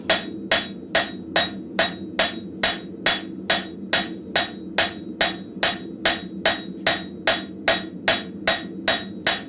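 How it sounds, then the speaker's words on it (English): Steel being forged with the flat side of a cross peen hammer in a blacksmith shop: loud, evenly spaced ringing blows, about two per second, repeat for the whole stretch with no talk. "I am now using the flat side of my cross peen just to finish it off"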